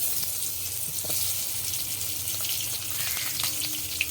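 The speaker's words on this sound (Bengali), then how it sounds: "কড়া গরম হয়ে গেছে, আমি পটলগুলো দিয়ে দিচ্ছি।" Pointed gourds (potol) dropped into a very hot pan and frying, a close, steady sizzle and crackle with faint water-like hiss and a few small clinks, no voices.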